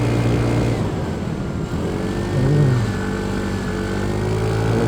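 A Kymco RTS R165 scooter engine drones steadily and loudly on a mountain road, its pitch rising gently as it revs, with continuous wind rush throughout.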